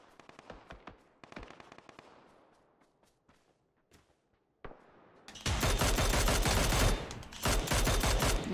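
Video game gunfire, likely from a battle royale, starts as scattered single shots and short bursts, then becomes a loud, dense stretch of sustained automatic fire in the second half.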